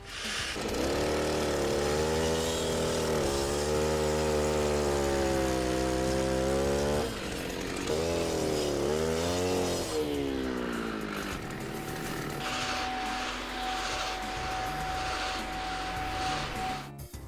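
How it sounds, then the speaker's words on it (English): Power saw recutting tension relief cuts in a concrete slab: a loud, steady engine drone that wavers in pitch, drops briefly, then returns with harsher grinding as the blade bites into the concrete. "I'm going to take the saw at this point and reopen all my tension relief cuts to make sure they're good and clean"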